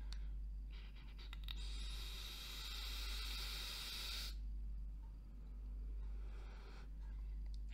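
Inhale through a Vandy Vape Maze rebuildable dripping atomizer fitted with pre-made coils, a steady airy hiss and crackle lasting about three seconds in the middle, set against a constant low hum with quieter breathy noise before and after.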